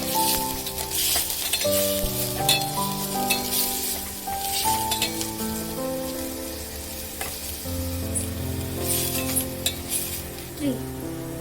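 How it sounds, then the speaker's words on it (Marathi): Onion and coconut masala sautéing in a pan for misal, a continuous sizzle with occasional utensil clinks and stirring scrapes, moderately close, with background music or tonal sounds running throughout. "खोबऱ्याचा मसाला सुद्धा आपण छान परतून घ्यायचा आहे"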